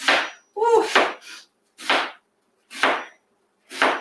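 A knife chops onions on a cutting board in sharp, separate strokes, about six close, crisp thuds spaced unevenly through the clip, with no talking.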